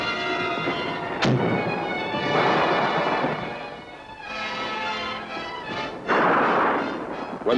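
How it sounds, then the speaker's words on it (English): Big guns firing in battle during the Vietnam War fighting at Dak To in 1968 give heavy booming blasts, each with a long rumbling roll. A sharp crack lands near the start and bursts swell again later. "big guns of the 4th were called in for support, and the heavy lead began to fly"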